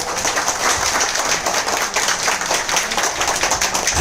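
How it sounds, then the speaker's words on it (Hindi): An audience claps for a speaker at the close of a training session, a dense steady patter of hands filling the room at even loudness throughout. "जोरदार तालियां सर के लिए।"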